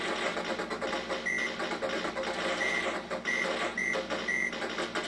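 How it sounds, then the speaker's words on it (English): Original arcade audio of Capcom's 1942 shoot-'em-up, played from the Capcom Classics Collection Vol. 1 on Xbox: a dense, loud wash of electronic game sound with short, bright beeps repeating every second or so, and no voices. "This is the original sound of 1942."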